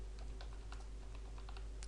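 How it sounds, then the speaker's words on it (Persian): Keys on a computer keyboard tapped out as a password is entered at login, a quick irregular run of light clicks over a steady low hum, close and fairly quiet, no voices. "بگذاریم پسوردم رو تایپ کنیم."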